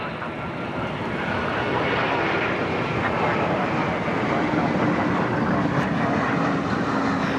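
Jet airliners such as a Boeing 747-400 and an Air France Airbus A330 at DFW airport produce a broad, steady engine roar that builds slightly and holds, distant and unbroken, with no talk.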